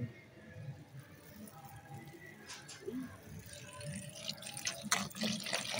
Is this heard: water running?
yes